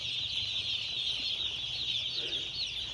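Chickens on a village farm cluck amid a steady, high-pitched chorus, with a brief flutter of wings partway through, heard at close range without talk.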